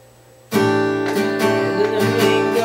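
Strummed acoustic guitar chords ring out after a brief quiet moment, a steady rhythmic pattern with repeated strum accents, close and fairly loud.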